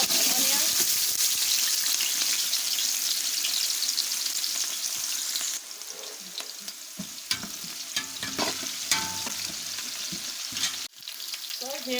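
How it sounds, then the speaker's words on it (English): Chopped onions fry in very hot oil in a pot, giving a loud, steady sizzle that crackles and hisses close up, easing slightly as they are stirred, with a person speaking faintly underneath. "I'll allow this oil to get very hot. Then I'll be pouring in my onions and then fry the ingredients also."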